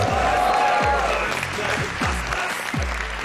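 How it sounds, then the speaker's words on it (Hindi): Audience applause welcomes a guest onto a Pakistani comedy talk show stage, steady, dense clapping throughout the short stretch with a rhythmic thumping music beat underneath. "आप सबकी तालियों में तशरीफ लाते हैं"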